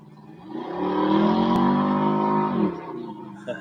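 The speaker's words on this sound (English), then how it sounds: "While we listen to the V8, there's a Mercedes in the distance giving it some way up that hill." A Mercedes V8 rally car revs hard climbing a sticky hill at a Welsh event, a loud sustained engine roar that swells, holds for about two seconds, then drops away.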